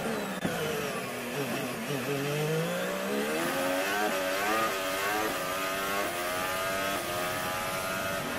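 Formula 1 cars of Hamilton and Rosberg race toward turn 1, their high, whining engines climbing in pitch through rapid gear shifts, layered and loud, passing close without any voices.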